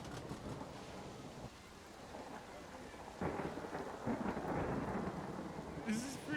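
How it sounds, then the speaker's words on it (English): Thunder rolls through a steady rain storm in Planet Coaster 2, a low rumbling swell building midway over continuous rainfall, ending with a brief brighter game sound. "So we got lightning, we got thunder."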